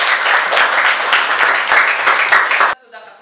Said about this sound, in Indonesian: Kita berikan aplaus untuk kita semua.